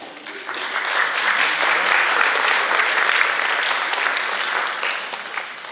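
Steady applause from a large audience at an annual awards night, many hands clapping at once for several seconds with no voices standing out.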